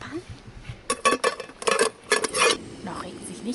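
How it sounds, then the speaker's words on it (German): Cooking pots and metal cutlery clattered at a campsite in the Tien Shan, Kyrgyzstan, during a bikepacking trip: several quick bursts of close metallic banging and rattling, with short pauses between them. "Noch ein bisschen mit den Töpfen klappern."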